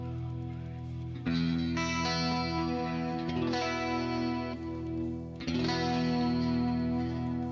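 Telecaster electric guitar with a clean tone through an amp simulator, strummed chords ringing with chorus-like shimmer and echo, a few fresh strums over sustained notes, quiet and without talk.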